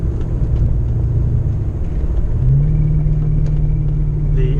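A Ford Mustang cruising at freeway speed on light throttle, its engine a steady low droning rumble heard from inside the cabin, rising slightly in pitch midway as gas is added, with road noise underneath.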